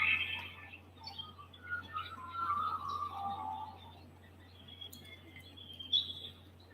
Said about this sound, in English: leaving the sound of the birds, saying goodbye to the insects